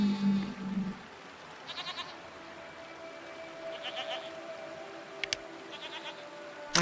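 Strange goat-like creatures bleat in the video game Seasons: A Letter to the Future, several short bursts spaced apart over faint ambient background, moderately close but not loud.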